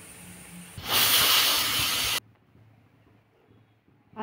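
A pressure cooker whistle on a medium gas flame lets off one loud burst of steam hiss lasting over a second, then cuts off sharply, leaving quiet room noise and a faint rise at the end.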